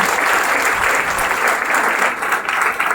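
An audience at a village event breaks into loud, dense applause, steady and continuous, filling the hall with many hands clapping at once.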